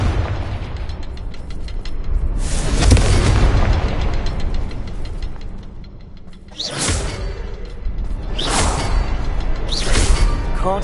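Confringo spell blasts in the Hogwarts Legacy video game: a loud booming explosion with a whoosh, followed by several more sharp bursts in quick succession over a dense rumbling battle background.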